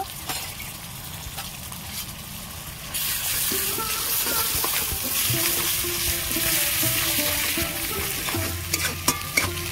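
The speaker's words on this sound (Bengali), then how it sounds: "সব মশলা দিয়ে ভালো করে আমি ভাজা ভাজা করে নিয়েছি" Spices with ginger paste and turmeric frying in oil for a fish head and cabbage curry, a loud steady sizzle that swells partway through, with scraping stirring and clinks.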